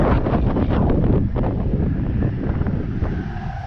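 Strong wind buffets the microphone outdoors during a line-of-sight acro flight of an MJX Bugs 3 Mini quadcopter, a loud, rumbling gusty roar that holds throughout and eases slightly toward the end, with no talk.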